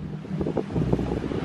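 Wind blowing on an island during kite flying, gusting buffets against the microphone with a low rumble, fairly loud and uneven across the short stretch.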